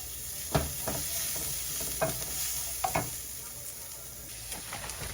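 Food with smoked paprika cooking down in a pan, stirred now and then: a quiet steady sizzle with a few soft scraping strokes and light clinks, close by.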